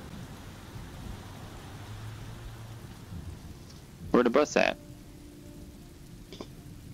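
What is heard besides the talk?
rain and thunder in the video game Road 96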